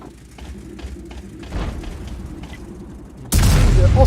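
E 100 heavy tank in World of Tanks firing a long-range shot, a sudden loud booming report near the end after quieter rumbling and faint mechanical clatter.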